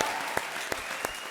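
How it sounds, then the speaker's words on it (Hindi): A studio audience at a stage comedy show claps in a short, dense burst of applause, close and even, lasting just over a second. "तालियां!"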